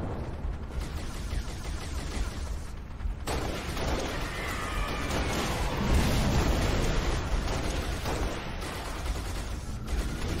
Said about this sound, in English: they're shooting down the Falcon with fuel rods.